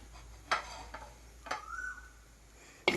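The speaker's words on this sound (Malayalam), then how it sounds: "മുരിങ്ങക്കായ ഇട്ട് കൊടുക്കാം" Moringa drumsticks dropped into a clay cooking pot on the stove make a few soft, separate knocks and clatters, spaced about a second apart, with a quiet room behind them.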